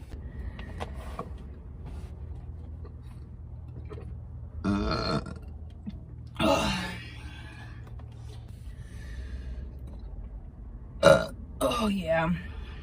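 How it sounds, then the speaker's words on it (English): A woman lets out several deep burps, a couple of mid-length rumbling belches followed by a sharp louder one and a drawn-out finish near the end, close and clear against a quiet room. "So internal mouth burp."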